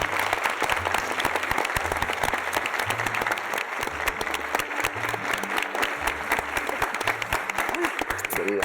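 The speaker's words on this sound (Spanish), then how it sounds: "Demos la bienvenida con un fuerte aplauso a la dramaturga y crítica teatral" Audience at a theatre event applauds loudly and steadily as a playwright and theatre critic is welcomed, a dense, continuous wash of clapping with a faint voice underneath.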